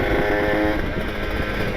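Kawasaki Ninja RR two-stroke motorcycle engine running after a throttle change, a loud, steady, crackly drone held close for the whole short stretch, stuck in heavy traffic.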